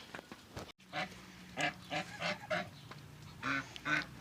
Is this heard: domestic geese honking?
yes